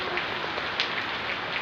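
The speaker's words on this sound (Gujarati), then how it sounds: "હજુ સુધી ચાલુ છે વરસાદ" Evening rain falling steadily outside a home, a continuous soft hiss with a few faint drips.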